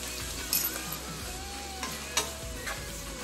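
Cabbage stir-frying in a pan, a low continuous sizzle broken by several sharp clinks and scrapes of a utensil against the metal as it is tossed.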